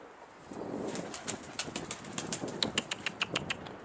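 Pigeons flap their wings in quick bursts and coo softly nearby, with the flutters growing busier and more rapid toward the end.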